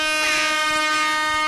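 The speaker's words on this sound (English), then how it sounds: "Let's give her some air horns" A loud, sustained blast from an air horn sound effect plays during a radio show. It is one continuous tonal honk that holds for a second and a half.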